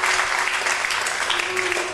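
A church congregation claps for Jesus, a steady mass of hand claps with a sustained tone or voice running underneath.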